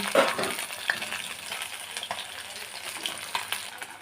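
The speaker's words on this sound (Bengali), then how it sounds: "মাছ ভাজতে গেলে খুবই ফোটে" Pabda fish frying in hot oil, a continuous crackling sizzle with sharp spattering pops and an occasional light clink of a utensil, close up and without talk.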